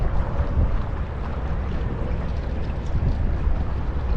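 Kayak fitted with a Railblaza motor mount running its motor at 75% throttle into the wind, a constant loud low rumble of wind buffeting and water noise with no breaks.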